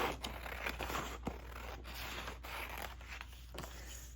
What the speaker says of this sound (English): Okay, actually, I'm gonna cut this.